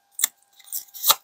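Scissors cutting out paper letters, a few close crisp snips separated by short pauses, with no one talking.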